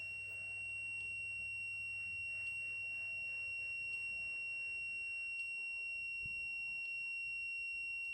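A steady high-pitched electronic buzzer tone on a mechatronics device sounds continuously while an upload runs, with faint periodic ticks and low background hum, no talking.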